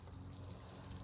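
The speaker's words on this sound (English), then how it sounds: "Bill's just going to shove some water in." Water poured onto newly composted blueberry plants with pine needles on the soil, a brief faint steady trickle heard up close without talk.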